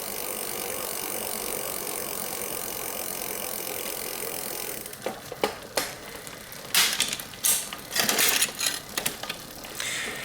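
A bicycle derailleur is tested after a limit screw adjustment. A steady whirring drivetrain runs first, then several distinct clicks and rattles of gear shifts cut in during the second half.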